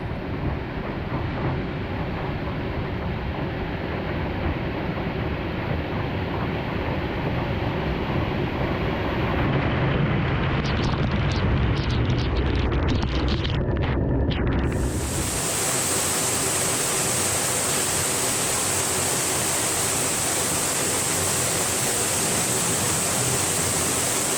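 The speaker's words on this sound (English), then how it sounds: "After exploring above the waterfall, it was time to face the waterfall head on." Roaring waterfall at Wright Creek Falls on Lake Jocassee, heard from a kayak: a loud, steady broadband rush of falling water that continues throughout, closing with a brighter, hissing spray as the kayak nears the falls.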